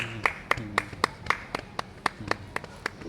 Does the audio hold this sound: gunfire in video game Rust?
no